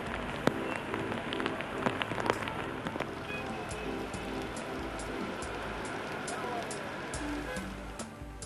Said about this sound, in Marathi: पुणे या ठिकाणी हा पाऊस पडतो आहे।